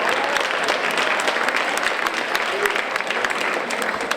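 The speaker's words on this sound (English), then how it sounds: "Give him a big round of applause." At an annual Rotary senior luncheon, the room gives a former police chief a big round of applause: loud, full clapping from a crowd, with voices mixed in beneath it.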